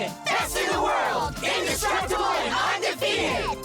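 Video game characters shout a group cheer together in a loud, rhythmic chant, several voices yelling in unison in bursts of about a second each.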